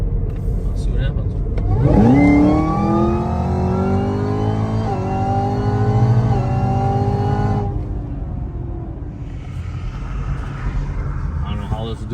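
A Camaro ZL1 launches hard down a drag strip, its engine roaring loudly as the revs climb steadily for several seconds through a gear change, then fading away into the distance.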